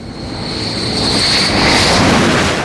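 Military aircraft roar overhead from the U.S. aircraft carrier Independence in the Persian Gulf, a loud continuous engine drone that swells slightly as it passes close by.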